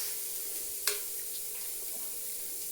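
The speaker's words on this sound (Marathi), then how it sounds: "तर कढाईत पहिला कांदा टाकायचा, तेल नाही टाकायचं आत्ताच." Onion dropped into a hot, dry kadhai with no oil, giving a soft continuous hiss and sizzle with one sharp click partway through, fairly close and even in level.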